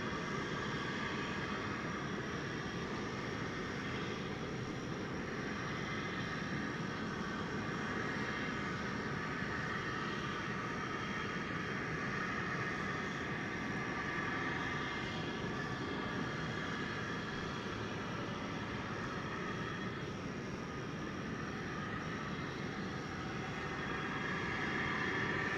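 An airliner rumbles in at DFW Airport landing on runway 18 left, a broad, steady distant roar of engines and air holding at an even level throughout, with no talking.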